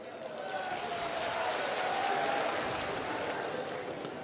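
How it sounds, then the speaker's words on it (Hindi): Audience applause welcoming a speaker at a political rally, a steady broad wash of clapping from a large crowd holding at an even loudness for several seconds. "आपने तालियां बजाकर स्वागत किया है, अभिनंदन किया है"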